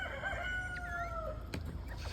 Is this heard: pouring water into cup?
no